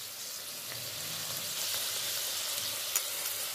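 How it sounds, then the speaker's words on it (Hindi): Minced meat (keema) frying on medium flame gives a steady, moderately loud sizzle that continues evenly throughout, with no talking. "इसको हम हल्का सा फ्राई करेंगे मीडियम फ्लेम पर"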